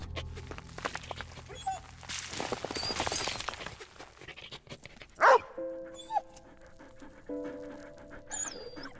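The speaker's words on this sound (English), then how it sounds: "Good puppers." A dog barks and yips in the World War I game Valiant Hearts: The Great War, a few short barks and panting heard among game sounds and music.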